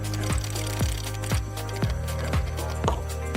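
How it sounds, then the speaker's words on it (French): A screwdriver scrapes the zinc coating off the mechanism side of a cheap padlock in close, rhythmic strokes about twice a second, each with a rasping attack, over a constant low hum. "commencez à gratter progressivement la couche supérieure de zinc à l'aide d'un tournevis"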